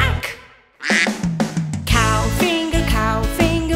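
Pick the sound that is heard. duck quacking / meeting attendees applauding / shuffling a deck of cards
duck quacking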